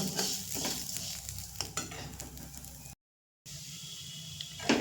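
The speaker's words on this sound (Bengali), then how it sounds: "মুগ ডালটা একটু ভেজে নেব অনেকে মুগ ডাল শুকনো কলাইতে ভাজে কিন্তু আমি একটু তেল দিয়ে ভাজি" Mung dal frying in a little oil in a pan, a faint, steady sizzle with light stirring scrapes, broken by a short gap of silence before the sizzle resumes.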